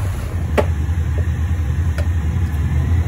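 Mercury 150 HP four-stroke outboards idle during their break-in run, making a quieter, steady low rumble broken by a few brief sharp clicks.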